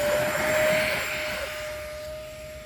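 An E-flite Airbus A320neo RC airliner with twin 64mm electric ducted fans takes off, its high, steady turbine-like whine swelling briefly and then easing slightly as it climbs away outdoors.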